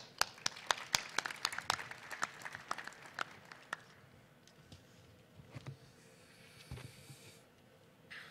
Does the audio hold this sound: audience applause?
yes